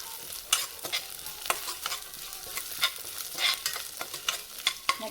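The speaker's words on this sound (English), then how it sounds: "Next I am going to add moong dal. Mix it well, the color have to change." Moong dal and curry leaves fry in a pan while being stirred, with repeated sharp spoon scrapes and clatters over a soft sizzle, close and without speech.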